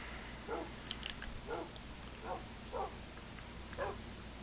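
A dog in the video game Minecraft makes a series of soft, short barks or yips, about five spaced evenly over a few seconds, faint over a steady background hum.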